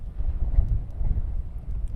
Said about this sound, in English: Bit of a gust coming on here.